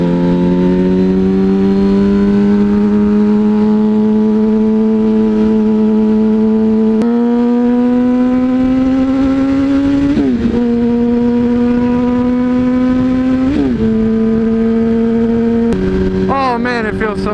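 A motorcycle being ridden, its engine droning loud and close with a rising tone through each gear, short dips and shifts between them, and a whining rev near the end.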